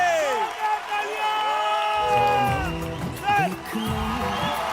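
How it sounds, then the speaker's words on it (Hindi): A studio audience at a televised entertainment show claps, cheers and whoops in bursts beneath a prominent voice talking and singing. "जोरदार तालियां, जोरदार तालियां।"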